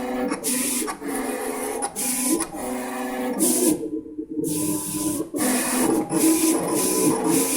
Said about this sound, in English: This is the only cutter I've ever seen that level of detail with.